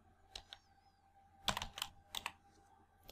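A computer keyboard is typed on while entering a spreadsheet formula, with a few sparse, crisp keystrokes in small clusters, close and quiet against near silence.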